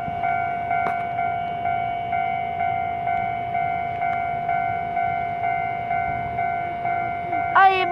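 A 700-series commuter train passes a level crossing in Taiwan; the crossing's warning bell pulses steadily throughout over a low rolling rumble of the train, with a brief sharp squeal at the end.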